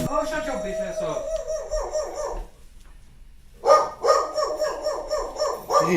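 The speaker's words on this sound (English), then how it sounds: "Sorry about the dog." A pet dog barks in repeated bursts close by in a room during a live sports talk stream, mixed with speech-like sound and a steady tonal background.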